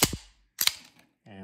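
Metallic clacks from working the slide of a Colt Rail Gun 1911 pistol in .45 ACP: a sharp snap, a second crisp rack a half-second later, then a brief low voice.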